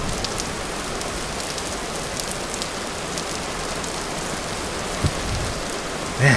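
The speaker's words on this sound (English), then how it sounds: "Man, it rains here a lot, doesn't it?" Steady rain falls across a game landscape in Vintage Story, a dense even hiss of drops on surfaces that carries on unbroken, with a couple of faint brief knocks near the end.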